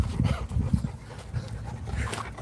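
A dog of a da Presa breeding kennel pants in quick, steady rhythmic breaths, close and fairly loud, with a faint whimper mixed in.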